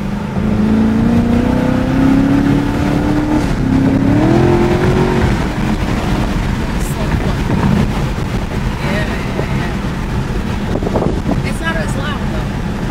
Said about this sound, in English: Yeah, it's just the exhaust.